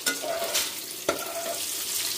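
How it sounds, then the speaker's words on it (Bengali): Fish and pointed gourd fry in a pan with a steady, hissing sizzle. A couple of sharp utensil clinks and stirring scrapes come through; no one speaks. "এখানে যে মাছ ভেজে রাখছি এক এক করে"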